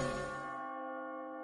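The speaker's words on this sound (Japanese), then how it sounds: "この鐘の音って。" A single bell strike rings out with a bright, shimmering onset, then settles into a long, steady hum that fades gently, heard alone without voices.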